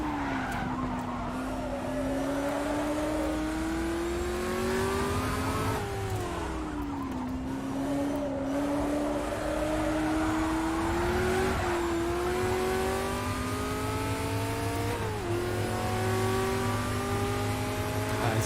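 Race car engine in Automobilista with a Ford vs Ferrari mod at Sebring, loud and continuous, rising through the revs, dipping at each gear change, with tire squeal and skidding mixed in.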